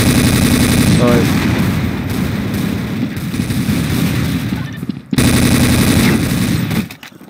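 Gunfire in Counter-Strike: Source, with loud continuous automatic bursts rattling close up for several seconds, a short break, then another sustained volley before it cuts off.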